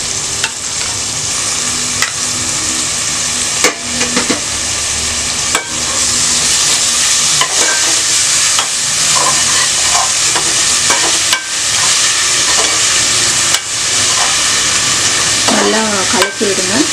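Ground onion paste stirred into hot oil in a pan for chicken kola biryani, frying with a loud, steady sizzle and repeated scraping stir strokes throughout, with no talking over it.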